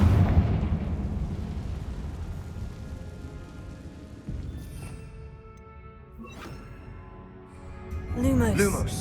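Confringo fire spell cast in Hogwarts Legacy, a heavy booming blast that rumbles on for several seconds with crackling debris, then a fresh burst near the end, amid game sound effects.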